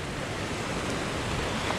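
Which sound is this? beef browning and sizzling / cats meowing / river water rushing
river water rushing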